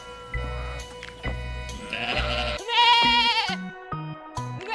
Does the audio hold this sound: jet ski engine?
no